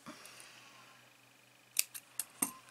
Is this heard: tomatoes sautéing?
no